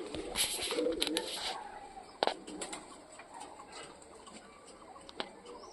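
Punjabi pigeons give soft low coos and murmurs early on, followed by sparse clicks and faint rustling in a quiet coop.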